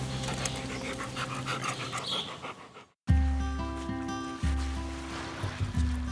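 A dog pants in quick, breathy bursts for about three seconds, fairly close, before the sound cuts to music.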